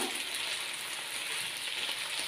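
Aubergines and minced meat fry over medium heat in a pan, giving a dense, even sizzle that stays close and constant from start to finish with no voices.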